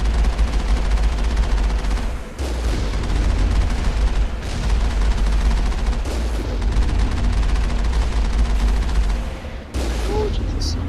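Continuous machine gun fire in the game Mass Effect, dense and loud with a few short gaps, with talk underneath.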